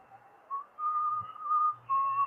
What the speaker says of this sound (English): Whistling was somewhere in the building.